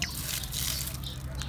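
Water poured out of a plastic bottle while rinsing it for keeping betta fish, a continuous splashing, gurgling stream lasting the whole moment, close and moderately loud.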